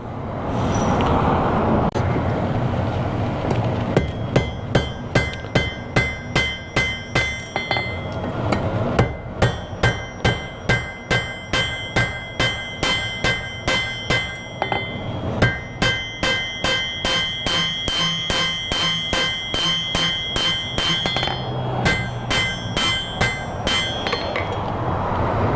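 Hammer blows forging the stem of a metal leaf on an anvil, a long run of sharp ringing strikes in quick steady rhythm, close and loud, with brief pauses between bursts.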